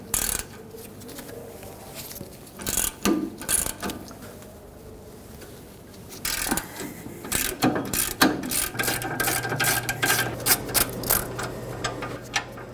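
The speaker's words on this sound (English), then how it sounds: "Now use an 18mm socket, remove these 2 bolts holding the caliper bracket onto the rear axle." An 18 mm socket on a ratchet removing the caliper bracket bolts on the rear axle of a 2015-2020 Ford F-150: steady close clicking ratchet bursts that start and stop over several seconds, with no talk.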